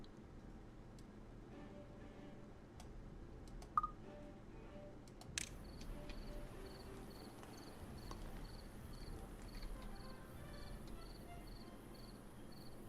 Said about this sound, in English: I hear crickets